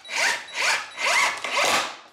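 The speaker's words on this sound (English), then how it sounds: "I'm gonna go ahead and drive in one of my 3-inch screws on each side." Power drill driving a 3-inch screw into a 4x4 timber, four rising and falling whirring bursts in quick succession, close and loud with no talk.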